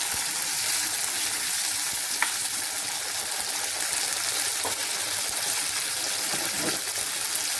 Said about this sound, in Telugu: ఒక 5 నిమిషాలు ఇది నేను వేగనిద్దాం